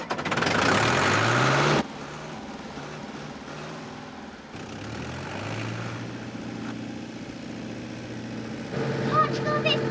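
A tractor engine chugs at low speed, a steady rumbling drone that shifts in pitch as it moves slowly along, with voices talking over it.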